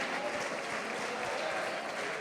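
Church congregation applauding during a baptism service, a dense, steady wash of clapping hands that stays even and full from start to finish.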